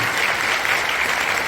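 Dense, steady applause from a congregation at a National Assembly prayer breakfast thanksgiving service in a large hall, a continuous wash of many hands clapping for the whole brief stretch.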